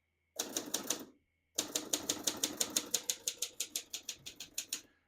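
Typing on a 1957 Triumph Perfekt portable typewriter: a short burst of rapid key strikes, a pause, then a long steady run of sharp, close mechanical clacks that slow slightly toward the end.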